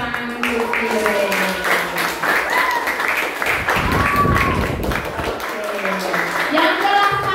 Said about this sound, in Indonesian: tepuk tangan untuk Firen.